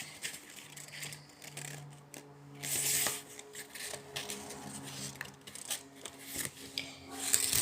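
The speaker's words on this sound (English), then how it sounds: "you've got to fold it in half with the other corners like" An A4 sheet of paper being folded in half for a paper aeroplane, with close, quiet rustling, rubbing and crisp creasing scrapes in irregular bursts, no voices.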